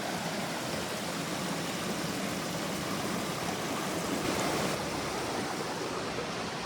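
Bully Brook on the Appalachian Trail rushes steadily over rocks, a constant close wash of flowing water with no pauses and no talking.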